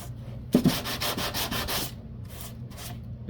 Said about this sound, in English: And sanding it all off.